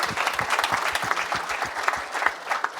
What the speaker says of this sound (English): Could we have a round of applause for him?